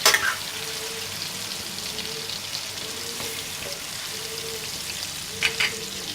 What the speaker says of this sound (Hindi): इसको थोड़ा सा पका लेंगे, क्योंकि फ़िश 2-3 मिनट में ही पक जाएगी।